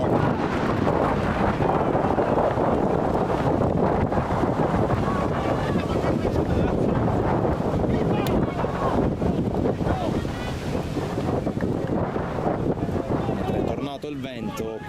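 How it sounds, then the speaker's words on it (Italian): Strong wind buffeting the microphone at the Giovanni Aloisio football stadium during an under-19 match, a constant loud roar with a commentator talking over it. "Il vento qui al Giovanni Aloisio è tornato anche abbastanza forte"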